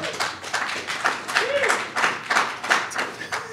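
Studio audience applauding Steph Curry at a talk show, a steady stretch of claps and cheering with a host's voice speaking over it throughout.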